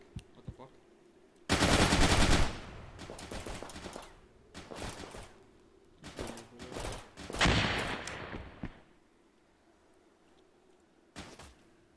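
Bursts of rapid automatic gunfire in a video game, loud and close, broken by shorter volleys and single shots, with brief pauses and a faint voice between.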